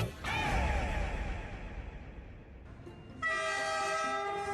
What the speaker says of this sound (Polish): Pociąg przejeżdża przez bardzo wąską ulicę